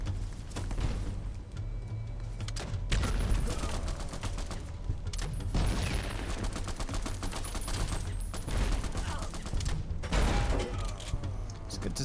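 Grenade launcher shots and blasts in Fallout: The Frontier mod, with repeated bursts of fire, a few sharper impacts and mechanical clanks over background music, while a voice talks underneath.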